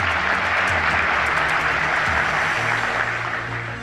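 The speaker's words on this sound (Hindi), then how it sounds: "पूरा हॉल तालियों से गूंज उठा।" A full conference hall in Bangkok breaks into sustained applause at an India-Thailand event, a dense, even wash of many hands clapping, loud and continuous, with a low background hum beneath.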